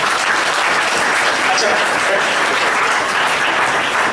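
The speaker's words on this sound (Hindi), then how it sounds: "इनके नाम पे थोड़ा ताली हो जाना चाहिए।" Students at a personality development training program clap for NSS volunteers, loud, dense applause filling the room throughout, with a man's brief remark over it.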